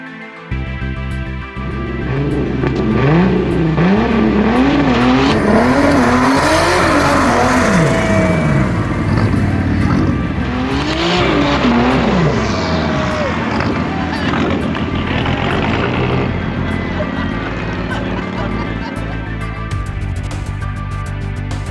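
A VW Corrado does a burnout, its engine revving hard in rising and falling sweeps with loud tire noise running steadily throughout, close and continuous.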